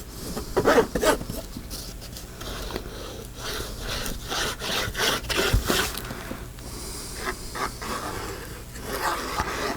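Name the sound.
metal tip rubbing on the linen cloth of a book cover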